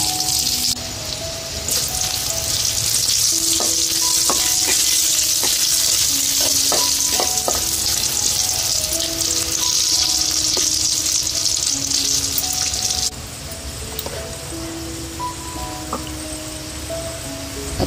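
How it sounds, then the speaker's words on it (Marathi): Hing, mustard seeds, garlic and curry leaves crackle and sizzle in hot oil in a kitchen pan for a Konkan-style jackfruit vegetable, a loud steady fry with scattered pops that eases slightly near the end. "आता मी भाजीला फोडणी देते."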